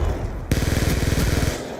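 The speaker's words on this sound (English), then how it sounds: "the Scorpion is also one of the scariest sounding guns in the entire franchise" A thud, then a rapid burst of automatic fire from the Scorpion submachine gun in Black Ops 2, about a second of tightly spaced shots, loud and close.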